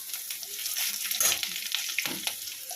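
Ginger spice paste with panch phoron fries in a pan, a close, continuous sizzle broken by crackles and a few louder bursts as it is stirred.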